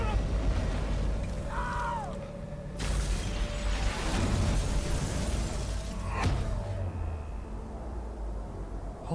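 Explosion in the video game Life Is Strange as a roof caves in: a loud, broad burst of noise around three seconds in, followed by a second sharp crash over a steady rumbling background.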